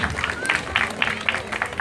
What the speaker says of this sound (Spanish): Aplausos para mi amigo.